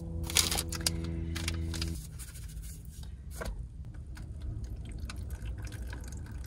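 Water is poured from a container into a flameless cooker pouch at a camp meal, a close gurgling pour lasting about two seconds, then soft drips and crinkling of the pouch.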